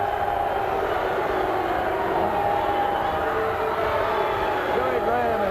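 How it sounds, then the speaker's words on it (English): Wrestling arena crowd booing Jerry Graham after a knee drop on Savoldi, a loud sustained roar of many voices filling the clip continuously, with a commentator's voice talking over it. "Listen to the crowd boo."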